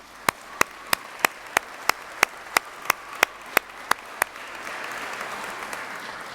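Church congregation in a sanctuary applauding in recognition of a food cupboard's twentieth anniversary: a run of evenly spaced sharp claps, then softer, denser applause spreading through the room.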